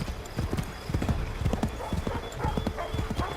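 Horse hooves in Assassin's Creed III Remastered, a rapid, steady galloping clip-clop from a ridden horse, close and prominent, with brief faint voices mixed in.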